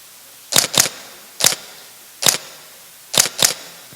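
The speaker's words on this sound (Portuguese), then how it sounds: "Isso é o obturador." Sharp camera shutter clicks, close and crisp, coming singly and in quick pairs with short pauses between, against a quiet background.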